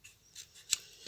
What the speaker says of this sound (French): Pensez bien à tourner votre papier et non pas le ciseau.